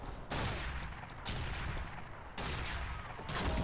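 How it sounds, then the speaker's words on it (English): Gunfire in the online shooter Ghost Recon Online, rapid bursts of automatic shots in dense loud volleys, separated by brief gaps and heard without talk. "shots inbound"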